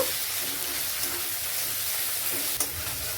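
Onion paste and cumin paste with spices sizzle steadily in hot oil for a Bengali mourola fish curry, a dense continuous hiss with a few faint stirring knocks.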